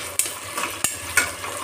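Green chillies and onions frying in a pan, a steady sizzle with a few sharp clinks and scrapes from stirring at close range, and no voices.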